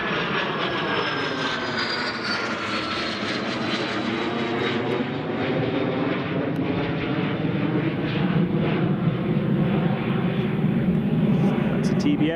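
A TBM turboprop idles on the apron at Newcastle International Airport, its engine giving a steady, loud drone with a descending whine and rich rumbling harmonics that persist throughout.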